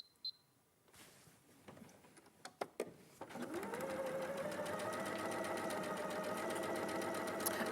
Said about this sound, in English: we're going to top stitch along that edge. Just nice and close.